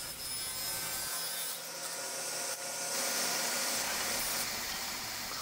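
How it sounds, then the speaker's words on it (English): A table saw rips pallet wood down to size, making a continuous loud whining, rasping cut that runs through the whole stretch and swells slightly toward the end, with no talking. "here you can see me running everything through the saw just like that"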